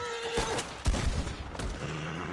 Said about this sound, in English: Yeah, this big ass horse.